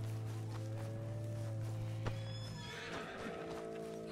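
A horse in the Red Dead Redemption 2 video game whinnies over the steady clip-clop of its hooves, close and clear against a low hum of game ambience, with no talk over it.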